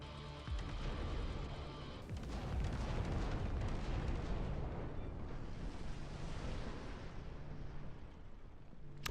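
Continuous artillery fire and explosions fill a Dust Front RTS battle, with dense rumbling booms and bursts overlapping at a loud, steady level and a sharp onset partway through.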